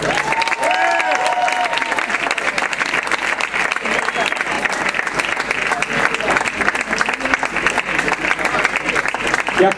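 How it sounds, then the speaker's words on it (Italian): Loud, sustained audience applause for a singer at a concert, dense and continuous throughout, with a voice speaking briefly at the start. "Un applauso."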